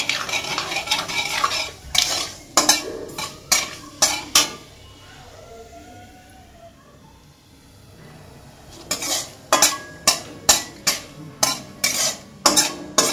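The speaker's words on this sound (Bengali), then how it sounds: "এবার দেখো ওই সেই তেলের মধ্যে আমি তেজপাতার ফোড়ন দিয়েছি আর কালো জিরে দিচ্ছি" Bay leaf and nigella seeds go into hot oil, with a faint sizzle in a quiet middle stretch, framed by bursts of sharp metal clinks and scrapes of a utensil against the pan.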